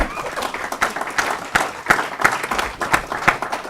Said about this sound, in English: let's give our panel a round of applause here